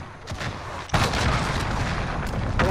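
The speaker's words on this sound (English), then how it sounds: "That's the enemy missile." An enemy missile blows up in Call of Duty: Modern Warfare, a sudden loud boom that lands amid a continuous roar of battle noise and rumbling gunfire, close and heavy throughout.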